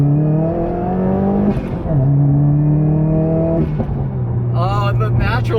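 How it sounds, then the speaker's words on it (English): Subaru WRX engine pulling hard and close, its tone climbing through several gear changes, with crackling exhaust pops near the end. "Oh, the natural pops, dude. That's what it's supposed to sound like."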